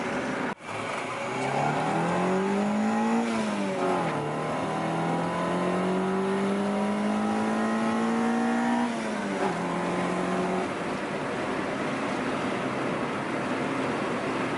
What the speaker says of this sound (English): I've been driving the Integra around for a little while